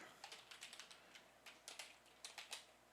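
Soft, close keystrokes on a computer keyboard come in short irregular bursts with brief pauses, quiet and alone without any talking.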